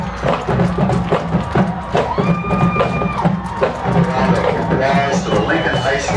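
Crowd applause and cheering for the Lincoln High School Marching Blue Band at a county band festival, a steady wash of clapping and shouts with some tonal sounds mixed in, filling the whole stretch.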